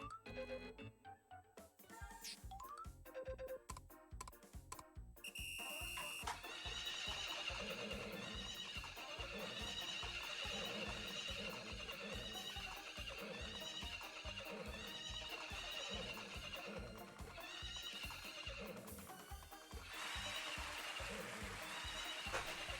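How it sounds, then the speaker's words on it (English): A horse sound effect plays as repeated whinnying neighs over a steady, rhythmic clip-clop of hooves that continues throughout at a fairly low, even level, with no one speaking. "you hear that horse noise"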